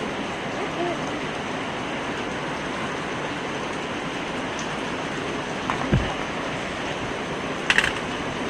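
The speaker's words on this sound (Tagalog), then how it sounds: "Sorry guys kung maingay kasi umuulan." Steady rain hisses continuously, with a couple of brief knocks and clicks standing out near the end.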